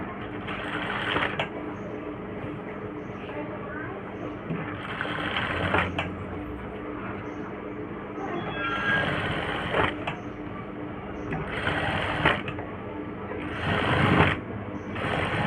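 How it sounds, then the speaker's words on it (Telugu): A sewing machine stitches around a blouse neck, running steadily up close with a continuous whirring hum and several louder surges as the stitching speeds up. "సెంటర్లో ఒక స్టిచ్ వేసుకొని తర్వాత నెక్ తిప్పడం స్టార్ట్ చేయండి"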